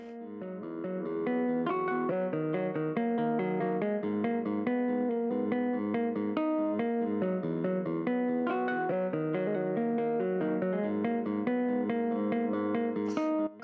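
A free VST software instrument played with delay and reverb and a high-pass filter, sustained melodic tones in overlapping notes with echoing tails, fading in at the start then steady for the rest.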